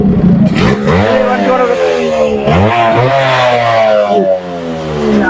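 A vehicle engine revs loudly and close by, climbing and falling in pitch several times in rising sweeps with a rough, buzzy tone. No speech is clear.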